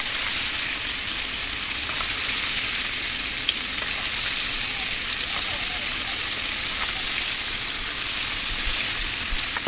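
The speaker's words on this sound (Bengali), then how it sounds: "এখানে তেলটা আমার গরম হয়ে গেছে আমি দিয়ে দিলাম।" Marinated chicken pieces fry in hot oil, a steady crackling sizzle that runs throughout at moderate level, with occasional small pops and a voice speaking faintly over it.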